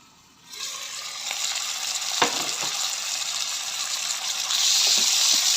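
Pork and aromatics sauté in an electric cooker with a steady, close frying sizzle that swells after a quiet start, broken by a few sharp clinks of stirring and growing louder near the end.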